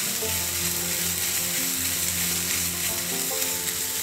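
Grated paneer and mint mixture being stirred together for paneer tikka stuffing, under a steady close frying sizzle with faint scraping, continuous and without talk.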